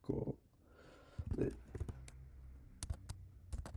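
Typing on a computer keyboard, a few soft, scattered key clicks in short clusters, quiet and close, mixed with a voice talking.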